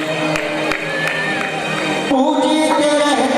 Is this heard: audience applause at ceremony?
yes